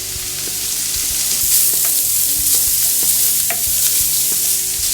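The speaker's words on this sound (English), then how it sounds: "the onions have started to turn a little translucent, which means that I can add my chorizo at this point. In it goes." Chorizo frying with onions, cilantro and jalapenos in a pan, a loud, close, continuous sizzle and crackle with stirring and a low steady hum beneath.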